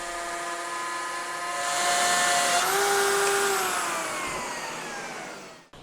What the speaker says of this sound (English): Now I'm routing the dados for the front dividers.